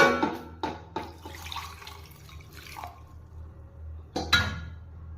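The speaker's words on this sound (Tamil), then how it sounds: "இந்த புளியை தண்ணி ஊற்றி ஊற வச்சிடலாம்." Water is poured over tamarind in a kitchen to soak it for thoothuvalai rasam: a few short splashing pours and drips arrive in separate bursts with quiet gaps between them, close and moderately soft.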